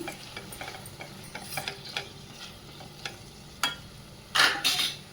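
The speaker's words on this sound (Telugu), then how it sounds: "ఈ విధంగా మునక్కాయలు కొంచెం ఫ్రై అవనిద్దామండి కాసేపు." Drumsticks frying in a pan, a faint sizzle under scattered light scraping and clinks of a spatula, ending with a couple of louder stirring strokes, close and with no voices.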